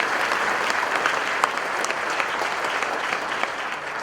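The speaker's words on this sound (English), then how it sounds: "Give him a round of applause." An audience at a county State of the County address applauds a legislator, sustained, even clapping from a large room filling the whole stretch without speech.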